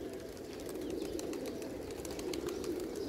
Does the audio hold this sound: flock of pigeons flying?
yes